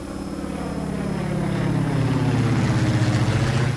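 A steady, loud airplane drone with a pulsing propeller-like throb hums throughout the cabin-like recording, building slightly as it continues, with no voices.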